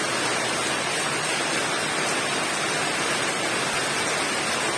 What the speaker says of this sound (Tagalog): nagpusog-pusog ang ulan ta